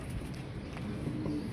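Pigeons coo softly in the background, low murmuring calls over a faint, steady ambient hum.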